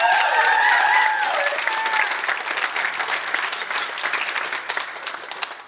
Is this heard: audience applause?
yes